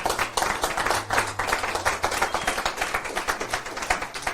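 Congregation clapping in a church service, a dense patter of many hands with uneven rhythm and some faint voices mixed in, moderately loud and steady throughout.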